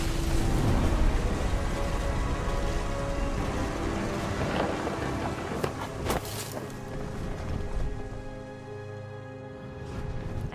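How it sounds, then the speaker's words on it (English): Heavy rain hisses steadily from a stormy scene in the game What Remains of Edith Finch, with deep rumbles of thunder rolling under it and a sharper crack near the middle before the downpour eases slightly. "The thunder sounded much too close and full of angry power"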